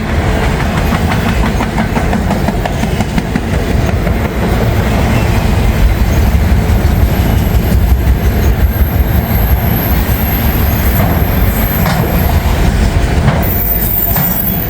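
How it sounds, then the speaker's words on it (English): A freight train rumbles steadily past close by in icy conditions, with continuous metallic clanking and rattling of shifting couplers, occasional faint squeals, loud and unbroken throughout. "There goes the couplers moving around. That's the sound you hear."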